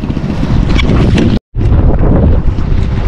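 Strong wind roars across the microphone on a boat at sea, a loud continuous buffeting rush with brief gusting surges and a short total dropout midway.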